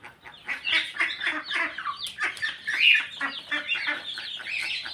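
Bantam chickens at a bird seller's stall cluck and chatter continuously, several birds overlapping at close range in a steady stream of calls.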